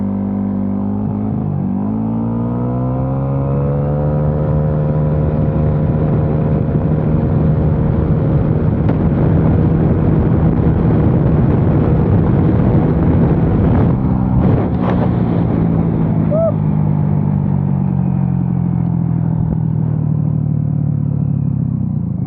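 A turbocharged 125 cc scooter engine running at 10 psi of boost holds a loud, sustained drone with steady harmonics, rising briefly in pitch near the middle before settling, heavy wind rush over it and no voices.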